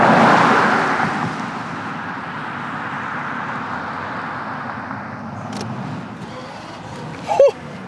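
Toyota Century with a V12 engine pulling away on a road, a low smooth engine and tyre rumble that swells at first and then settles into a quiet steady hum, with a brief sharp click or thump near the end.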